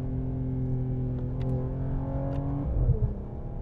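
A 2021 Mercedes-AMG E53 sports sedan drives along with a steady engine drone that swells briefly as it accelerates, heard from inside the car with no talking.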